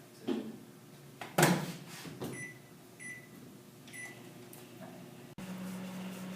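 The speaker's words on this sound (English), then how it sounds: "We're going to use the microwave for 60 seconds." Door thumps and button beeps are followed by the steady hum of a microwave oven starting to run, close and fairly quiet.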